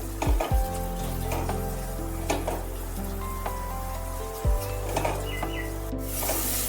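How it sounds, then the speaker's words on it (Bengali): Sliced onion and tomato frying in a wok, a steady close sizzle with scraping stir strokes and a few sharp clanks of the spatula against the pan, no voices. "এবার পেঁয়াজ আর টমেটো তো ভাজা হচ্ছে"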